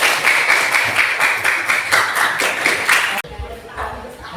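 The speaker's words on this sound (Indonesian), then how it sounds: "Tepuk tangan untuk semuanya." Students in a classroom clap together in a fast, even rhythm, loud and close, breaking off abruptly near the end into quieter room noise.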